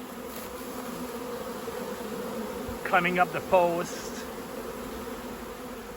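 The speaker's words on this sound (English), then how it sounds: "So you can see the bees all kind of climbing" A swarm of honeybees gathered on a hive post gives off a steady, low buzzing hum for the full length, with a brief voice speaking partway through.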